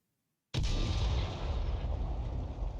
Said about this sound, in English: The IS-22 fires a double shot. That's why you heard the big bang.